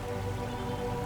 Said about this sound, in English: You can hear the distinct layers of the tropical rain,